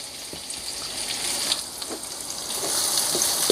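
Chilli, garlic and black pepper stir-fried in a hot pan for a Thai basil stir-fry give a steady hissing sizzle that grows slightly louder, with faint scrapes from stirring and no voices.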